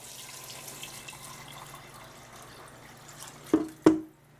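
Water poured into a pressure cooker for bean soup made with Great Northern or navy beans, a soft steady trickle with two sharp splashing bursts near the end.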